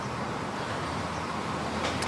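Road traffic passes beside a former Roman site now in a garden, a steady broadband roar of vehicles with no distinct pass-bys, fairly loud and continuous throughout, with no talk.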